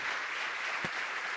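A church congregation at a Saturday liberation service breaks into dense, steady applause, a continuous wash of many hands clapping together, fairly close and even in loudness throughout.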